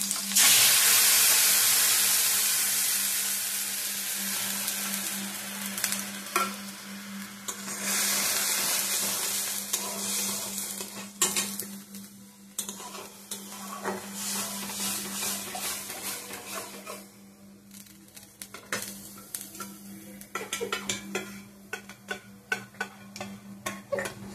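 Slit green chillies, dry chillies and sweetened, salted sour yogurt fry in a pan, opening with a strong hiss that settles into a softer sizzle punctuated by frequent ticking stirring taps, with a faint steady hum beneath.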